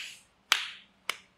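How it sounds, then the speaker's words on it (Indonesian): Two sharp slapping pats land about half a second apart as a therapist pats a stroke patient's body with an open hand, crisp and close, each with a brief fading tail. "Nah, sekarang saya tepuk begini."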